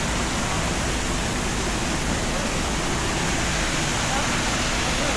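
Water pouring at the waterfall by the caves at Batu Caves, Kuala Lumpur, a steady loud broadband rush that fills the whole stretch without pause.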